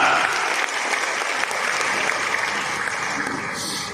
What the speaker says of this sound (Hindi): जोरदार तालियां बजाएं मेहमानों के लिए, जोरदार